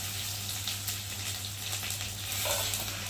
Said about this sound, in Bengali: এই মশলাটাকে ভালো করে ভেজে নেবো, যাতে রসুনের গন্ধটা একটু যায়